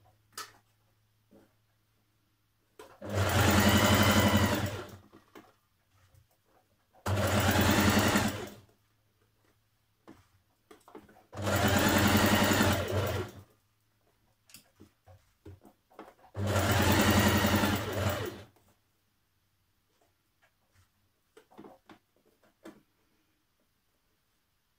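Sewing machine stitching the seams of a blouse (Simplicity 1316 top) with a 1.5 cm seam allowance, in four close, loud runs of about two seconds each, separated by quiet pauses.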